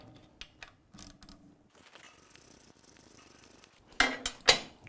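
A Torx T50 bit turns out the front mounting bolt on a BMW R1200GS with soft clicks and ratcheting, then ends in a few sharp metallic clanks and rattles close up.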